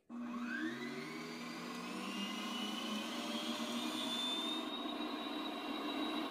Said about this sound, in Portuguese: Mas eu vou colocar aqui, vou bater na batedeira.